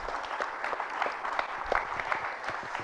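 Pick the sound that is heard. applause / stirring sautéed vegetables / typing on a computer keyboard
applause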